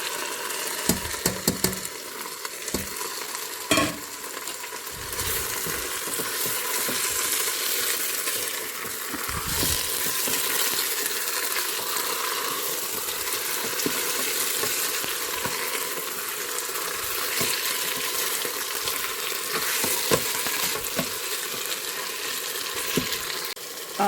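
Meat sizzling and frying with browned onions inside an electric pressure cooker, a continuous dense crackle with scattered clinks and stirring knocks from a utensil, close and steady throughout with no talking.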